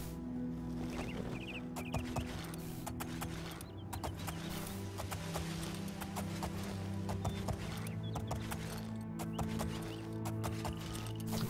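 Steady clip-clop of horse hooves in the video game The Elder Scrolls IV: Oblivion, plodding along and repeating evenly over continuous background music.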